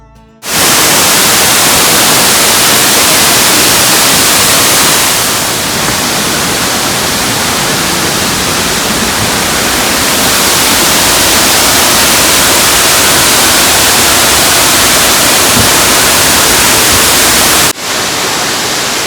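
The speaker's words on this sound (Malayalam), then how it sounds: "ഇപ്പോൾ നമുക്ക് ശരിക്ക് കാണാം കേട്ടോ ഫോൾസ്" Bushkill Falls in Pennsylvania roars as a dense, loud and unbroken rush of falling water heard up close at the base of the falls, holding steady for the whole stretch.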